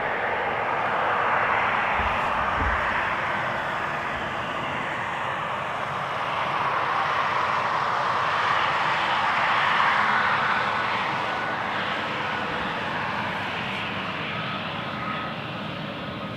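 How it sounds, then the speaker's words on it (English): A Qatar Cargo Boeing 777 arriving at Amsterdam Schiphol's Polderbaan runway gives a steady, broad jet roar that swells gently and holds loud and fairly near throughout, with no voices. "So here's the Qatar Cargo 777 coming in from Chicago."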